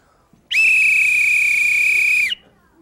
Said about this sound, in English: sometimes the referee has a whistle, and when they want the play to stop, they blow the whistle